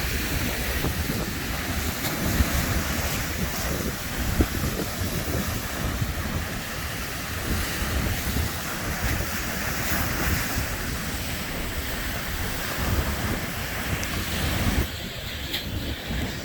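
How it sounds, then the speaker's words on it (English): Ocean waves and surf roll continuously along the rocky Cozumel coast, loud and close with steady wind noise over the microphone, and no talking. "you catch a big wave, it'll come through these holes"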